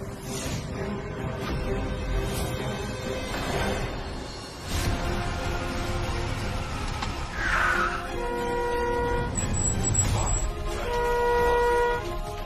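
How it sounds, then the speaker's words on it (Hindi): Busy street traffic with car horns honking repeatedly, mixed with engine noise and a bit of distant voices. "हॉर्न सुनाई नहीं दे रहा? गाड़ी हटाओ रास्ते से।"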